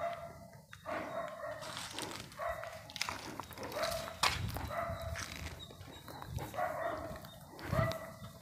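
A dog keeps barking near an empty house on a steep, dangerous hillside, with loud, repeated barks coming at a steady rhythm about once a second over a noisy outdoor background.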